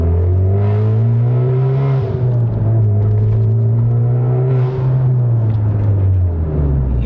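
A 2022 Honda Civic Type R FK8, front-wheel drive, revs hard through a slalom run, its engine note steady and loud, dipping and climbing again with each gear and throttle change, close and continuous with no talk.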